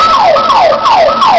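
A loud ambulance siren, heard from inside the responding ambulance in Pasig City, sweeps downward in repeated cycles, close and continuous, with a faint hum of traffic underneath.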